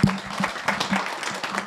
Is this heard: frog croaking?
no